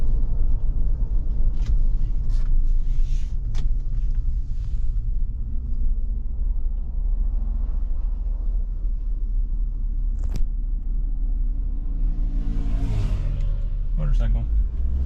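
Chevrolet Tahoe accelerating onto a highway, heard from inside as a deep steady engine and road rumble that swells slightly as speed builds, with people talking over it.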